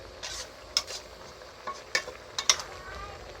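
Pork and noni leaves are stir-fried in a wok, with a low steady sizzle under a few sharp utensil clinks and scrapes against the pan.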